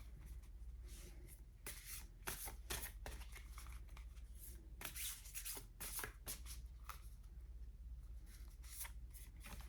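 Starseed Oracle cards being shuffled by hand in a quiet room, a long run of soft papery riffles and slides with brief sharp flicks scattered throughout, close and fairly faint, with no talking.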